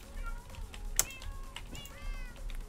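A cat meows several times in the video game Minecraft, short rising and falling calls spaced through the moment with a sharp click in between, over quiet game ambience.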